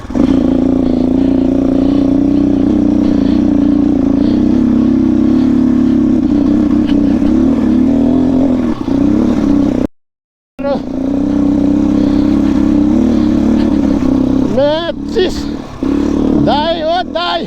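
A motorcycle rides along a rough road with a steady, loud mid-pitched engine drone that briefly cuts out and then resumes. People talk over it, and there are sharp rising revs toward the end.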